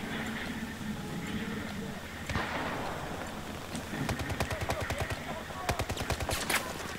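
Rapid machine-gun bursts in a Battlefield Conquest Large match on the Operation Mortar map, a dense crackle of shots that grows toward the end over a steady battlefield rumble, with players talking in the background.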